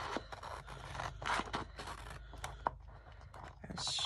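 Scissors snip through paper while a logo is cut out of a book cover, giving a run of close, light crunching and scraping cuts with short pauses between them.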